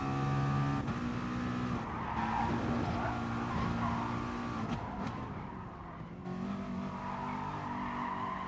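A grade 4 race car in Gran Turismo Sport drives with a steady, loud engine drone that rises and falls through gear changes, with tire skids and squeals over the top. No one talks.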